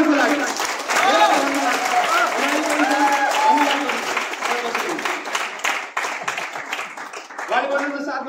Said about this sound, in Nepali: ताली उहाँहरूको लागि